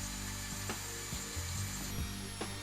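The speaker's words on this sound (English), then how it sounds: "Use a saw to cut on the lines to the depth you're looking for" A hand saw working through wood, faint rasping strokes under a steady background hum, with several soft scraping pulses.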